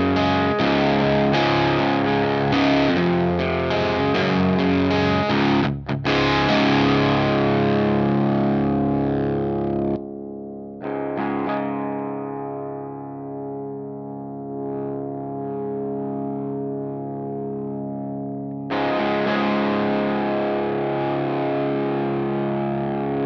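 Electric guitar driven through an Adorable Electronics Heckmouth screamer pedal, with gritty overdriven chords and notes that ring and sustain, decay toward silence, then a fresh strummed chord near the end; loud and alone, no voices.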